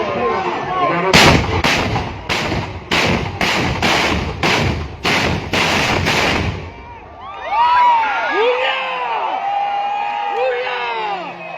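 Carbide cannons fire on Eid eve in Aceh with a rapid series of about nine loud, booming blasts, followed by whistling fireworks and a crowd murmuring in the background.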